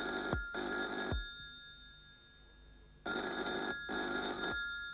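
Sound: telephone ringing

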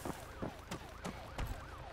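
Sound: ambulance siren in Arma 3 video game

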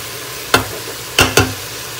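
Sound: frying tomatoes and spices for aloo mutton

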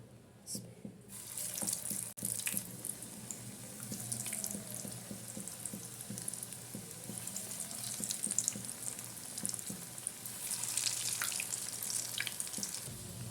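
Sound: frying broccoli cutlets in hot oil in a pan

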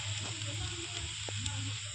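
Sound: food cooking over fire in video game Last Island of Survival

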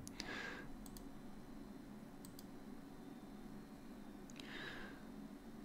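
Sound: computer mouse click on Remote Print

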